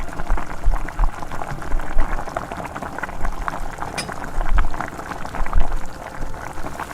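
Mustard seeds in a kadai: a busy, bubbling crackle of close popping and spluttering that swells and eases in uneven bursts.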